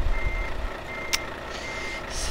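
Reversing beeps from a truck in the game Euro Truck Simulator 2 sound steadily under a low engine rumble, with a brief hiss partway through.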